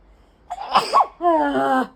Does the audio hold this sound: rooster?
no